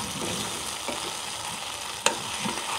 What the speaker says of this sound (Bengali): হালকা ভেজে দিব যাতে করে আদা রসুনের যে কাঁচা গন্ধ সেটা চলে যায়।